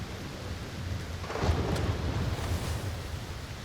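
Thunderstorm with rain in the video game Aloft: a steady broadband hiss of rainfall with a low rumbling swell of thunder building midway, moderately loud and without talk.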